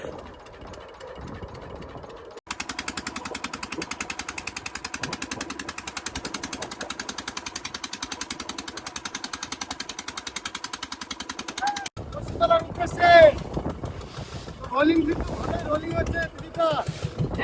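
A small boat engine on a tidal river in the Sundarbans runs steadily while fishing line is laid, a fast rhythmic mechanical chug that stops abruptly and gives way to people talking.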